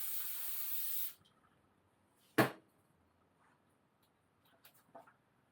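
A loud carburetor cleaner aerosol spray hisses for about a second close by on a Giant Stance bicycle, then stops, followed by a sharp tap and a few faint small clicks in quiet.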